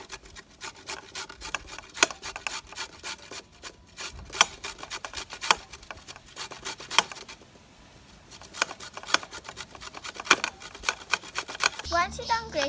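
Carrots rubbed against a grater for a homemade veg burger, a run of sharp rhythmic rasping strokes, close and fairly loud, pausing briefly near the middle before resuming.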